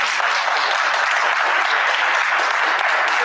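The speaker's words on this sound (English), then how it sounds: "If I can get a round of applause for these children" An audience at a panel on comics claps for the comic panelists in sustained, dense applause that holds steady throughout at close range.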